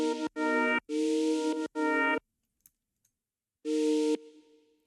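Synth chords from a track come in as bright, harmonic stabs: three short chopped bursts, a gap with faint blips, then a longer held stab that fades with a tail. Loud and close, no voices.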